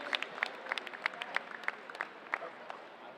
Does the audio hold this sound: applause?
yes